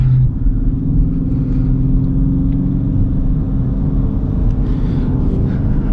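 A 2019 Dodge Charger R/T with a stock exhaust rumbles steadily from inside the cabin, a loud continuous low engine drone that holds even throughout with no voices.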